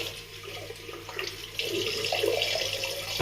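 Tap water runs steadily into a sink while something is rinsed, a continuous broadband splash that grows a little louder and fuller partway through, with no talking.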